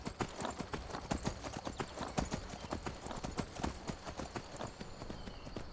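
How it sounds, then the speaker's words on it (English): Horse hooves clip-clop in a steady, busy rhythm as a mount scrambles up steep mountain terrain in the video game Skyrim, the clattering close and continuous with a faint whinny and game ambience beneath. "the horse literally just climbs over everything like it's nothing"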